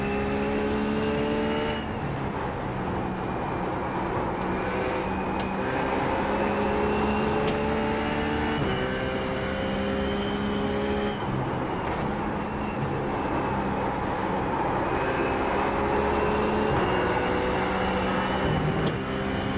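A RUF 12R race car engine roars at high revs in a racing video game on the Canadian Park circuit, heard from the cockpit view. The loud, steady whine dips briefly at several gear shifts and runs alone without talk.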